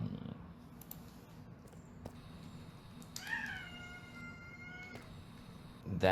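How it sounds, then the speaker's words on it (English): A pet cat gives a few short meows, with a drawn-out one near the middle, heard close and fairly quiet against a soft, steady indoor background. "is my cat Aphrodite."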